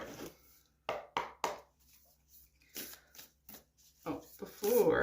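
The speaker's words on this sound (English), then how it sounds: "before I get going too hard on the shuffling" Tarot cards being shuffled by hand in a series of soft, papery riffles and slides, separated by short pauses, close and fairly quiet, with a brief louder rustle near the end.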